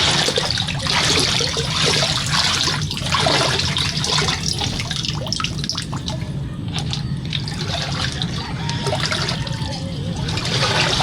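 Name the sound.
floodwater flowing like a stream in garden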